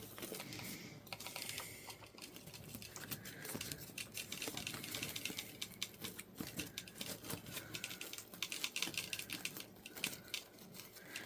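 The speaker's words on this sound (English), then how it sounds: "I'm just fumbling around with it here and adding this bow, making this bow to add to this" A bow is handled and fitted onto an old wreath, with continuous close, faint rustling, crinkling and small ticking clicks of ribbon and wire that keep going without a pause or any voice.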